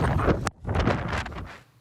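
Gusty wind buffets the microphone in broad, noisy rushes, briefly dropping off before blowing hard again, with no voices.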